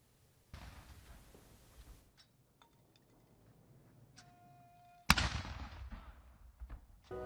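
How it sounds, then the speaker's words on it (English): A 21-gun salute in Washington, D.C. sends out a single sharp, loud report that echoes and rolls away after a stretch of quiet crowd ambience and faint distant sounds. "Right now, we are hearing that 21-gun salute."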